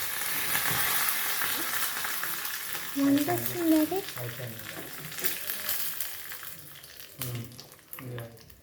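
Oil sizzles and crackles steadily with a few louder pops and spatters, close by, as tempering spices and curry leaves fry for gongura chutney; no talking.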